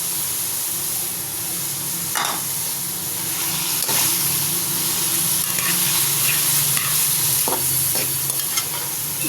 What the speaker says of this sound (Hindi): इसको 5 मिनट तक फ्राई करेंगे।